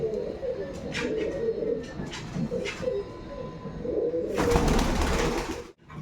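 Soft coos and low murmuring calls of pigeons in a loft, including Rajshahi Giribaz pigeons, run through the clip, with a burst of rustling or wing flutter near the end.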